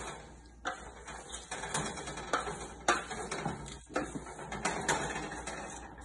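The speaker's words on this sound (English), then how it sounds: "take your spoon that you used before and stir it all in together" A spoon stirs a granola mixture in a pan, giving repeated scraping, clattering strokes in an uneven rhythm, fairly close and with no voices.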